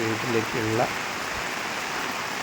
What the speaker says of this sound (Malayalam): മഴ വെച്ചുകൊണ്ടിരിക്കുകയാണ്, മഴ കൂടിക്കൊണ്ടിരിക്കുകയാണ്